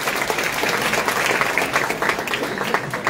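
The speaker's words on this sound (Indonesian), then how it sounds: "Yang sepakat transportasi adalah masalah di Kota Bandung, tepuk tangan" Audience applause at a public Q&A forum in Bandung, a steady, fairly loud spread of clapping from a sizeable crowd that holds evenly for about three seconds.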